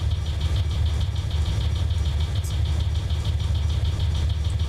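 A diesel locomotive idles while warming up in a train simulator game, a steady low rumbling drone with even texture throughout, moderately loud and continuous with no talk.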